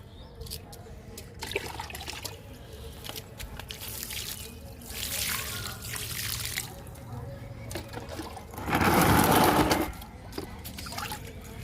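Liquid fertilizer poured onto young amaranth plants in a home garden, heard as several short splashing pours, with the loudest, fullest gush near the end and quieter trickles between.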